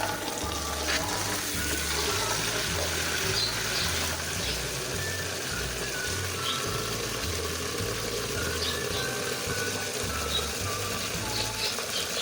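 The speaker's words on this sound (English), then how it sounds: "Now let's turn the water on and see the result." Water runs from a newly installed faucet in a steady, soft hiss that continues throughout, quiet and fairly close, with a low rhythmic hum underneath.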